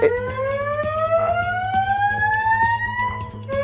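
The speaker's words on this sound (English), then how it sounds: "Fire alarm." A loud fire alarm siren wails continuously, its tone sliding slowly upward, with faint rhythmic clicking underneath and no voices.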